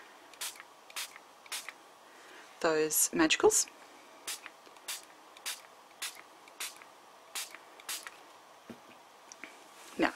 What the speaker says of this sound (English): grab just some water and spritz the stamp